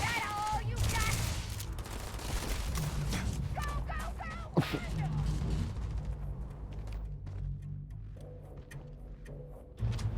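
Rapid gunfire in the video game Starfield, dense bursts of shots and impacts rattling over several seconds, loud and continuous before thinning out, with a voice talking over it.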